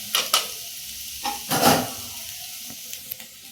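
Garlic baby potato masala sizzling in a covered pan over a medium flame, a soft steady hiss broken by a few louder crackles and pops.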